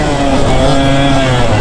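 A two-stroke dirt bike engine revs hard and loud up close, its buzzing rasp holding high and steady with slight pitch rises over wind noise.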